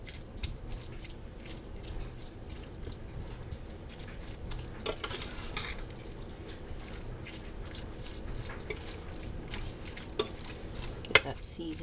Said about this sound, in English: Get that seasoning all mixed up.